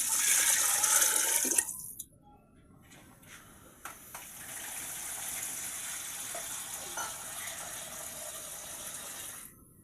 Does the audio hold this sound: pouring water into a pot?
yes